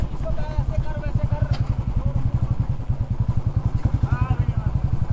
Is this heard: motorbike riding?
yes